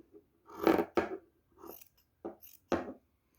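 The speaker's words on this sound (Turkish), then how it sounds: "Şurayı yine keseceğim." Scissors snip through surplus fabric in several close, crisp strokes with short pauses between cuts, heard alone without talk.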